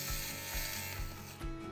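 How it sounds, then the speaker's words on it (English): A Steamery Diamond fabric shaver buzzes steadily across knitwear, shaving off pills, with a close, even whirring hum and small rhythmic ratcheting clicks as the head is pushed along the fabric. "So I've been using my steamery diamond shaver,"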